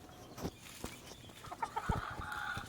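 Chickens cluck in a backyard coop, a few short calls rising over low scratching and rustle at moderate distance, with no talk.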